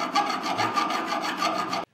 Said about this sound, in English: I'm gonna use a file that takes some of the rough edges off here